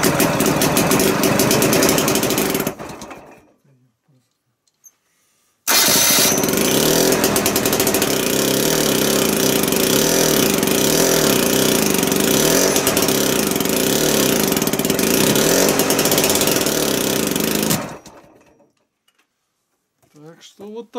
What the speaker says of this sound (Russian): D240-е двигатели, они хорошо заводятся, но пускай лучше потихоньку